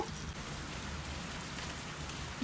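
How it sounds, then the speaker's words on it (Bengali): Heavy rain falls outside as a soft, even, steady hiss of drops on surfaces, faint and unbroken for the whole short stretch. "বাইরে অনেক সুন্দর বৃষ্টি পড়ছে"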